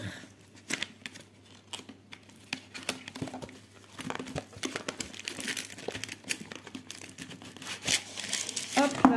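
Plastic film being peeled slowly off a diamond painting kit: close, irregular crinkling and crackling runs throughout, with brief speech and louder rustles near the end.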